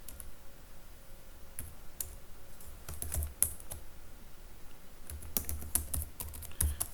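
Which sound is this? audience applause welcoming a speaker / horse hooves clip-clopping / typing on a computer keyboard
typing on a computer keyboard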